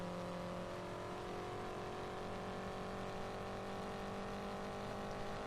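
A 1961-style race car at Trenton in the Indianapolis 500 Evolution racing game hums with a steady, even engine drone that is faint and distant, with no talk over it.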